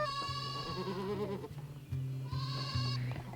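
Several big goats bleat loudly and repeatedly at close range, long wavering cries overlapping in quick succession with no talking.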